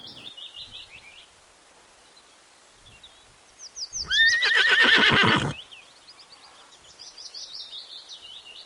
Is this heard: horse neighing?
yes